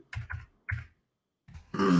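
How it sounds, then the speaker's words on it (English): A few short, throaty coughs close by, followed by a brief pause and a burst of rougher noise. "this tickly cough"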